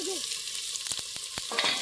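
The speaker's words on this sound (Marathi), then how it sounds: "हे कांदा आणि टोमॅटो ते जरा आपण फोडणी देऊन घेऊ त्याची" Chopped onion and tomato sizzle in hot oil in a pan during tempering for a mutton curry, a constant close frying hiss broken by several sharp stirring scrapes.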